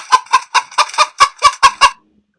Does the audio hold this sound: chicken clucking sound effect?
yes